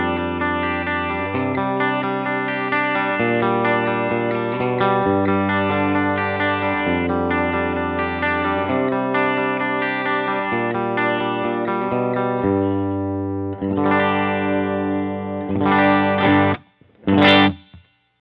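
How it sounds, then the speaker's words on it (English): Clean electric guitar through an amp, no effects, plays sustained chords with a slight shimmer, ending in a few sharp strummed stabs and a brief pause. "Here's a clip of just the guitar and the amp"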